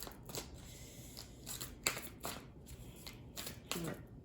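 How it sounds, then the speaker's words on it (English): Oracle card deck being shuffled by hand, quick papery riffles and slaps in several short bursts, close and fairly quiet, with brief pauses between them. "You would expect it to be easy to shuffle."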